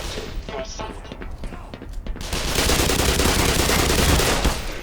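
Enemy soldiers firing guns in Black Mesa, sharp rapid shots crackling in bursts, then a loud sustained blast of gunfire and explosion noise, while someone talks.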